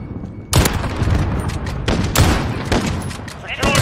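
Gunfire from a Kar98k bolt-action sniper rifle in the video game Modern Warfare: a few sharp, loud separate shots spread over a few seconds, with steady game background noise between them.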